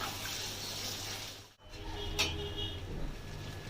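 Water is poured into a pan of Bengali potato and pointed gourd curry cooking in spiced oil, giving a steady, soft splashing hiss with a brief break midway.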